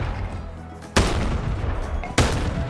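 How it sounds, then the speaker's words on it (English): A shotgun fires in the VR game Bonelab, modded with Half-Life weapons: two loud, sharp blasts about a second apart, each ringing out briefly with no talk over them. "It shoots shotgun shells"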